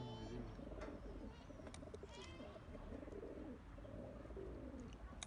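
Pigeons coo steadily through an evening feeding, low rolling calls repeating in overlapping waves, with a few sharp chirps and wing flutters above them, all fairly close.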